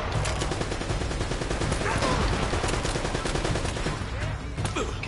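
Shotgun fire and other weapons in Uncharted: Drake's Fortune blast in a dense, continuous fusillade, loud and close, with overlapping shots.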